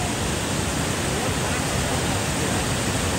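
Large mountain stream rushing in a steady, dense roar of flowing water, loud and continuous with no pauses.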